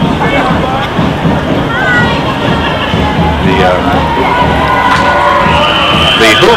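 A crowd lining a Halloween parade route cheers and shouts loudly and steadily, with children's excited yells and a murmur of voices running through the whole stretch.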